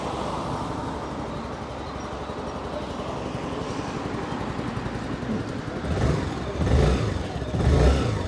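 A 2025 Lambretta G350 scooter engine starts and runs with a steady buzzing rumble, then revs up twice in louder surges toward the end.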